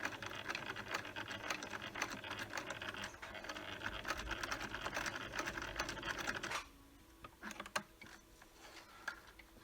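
A sewing machine stitches a fabric mask with lace or string attached, its fast, steady mechanical chatter running for several seconds before it stops, followed by a few quiet clicks and handling noises.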